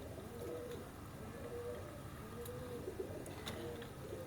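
A purebred Sakhi Bhati Teddy pigeon coos softly in a steady series of low, rolling calls over a constant background hiss, with a few faint chirps high above.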